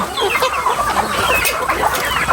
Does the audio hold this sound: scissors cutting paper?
no